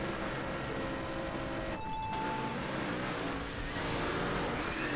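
Dragster engine at launch in the racing game The Crew Wild Run, a loud continuous roar with shifting pitch sweeps and brief tonal changes, heard without talk.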